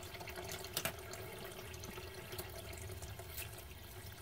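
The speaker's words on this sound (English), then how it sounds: "I'm going to wash this out in warm water" Tap water running steadily into a sink while ingredients are washed in warm water for homemade menudo, a faint continuous splash with a couple of brief louder splashes.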